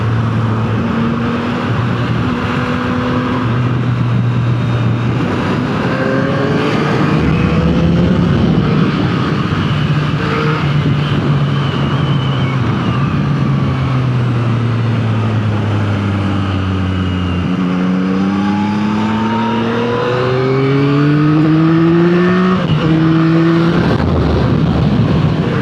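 A 2024 Yamaha MT-09 motorcycle rides and accelerates hard, its engine note climbing through repeated gear shifts with rising and falling revs, loud and close for the whole stretch.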